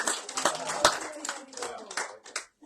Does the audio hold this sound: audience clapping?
yes